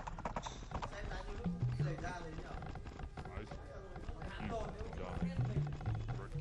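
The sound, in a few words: horse hooves clip-clopping in a strategy video game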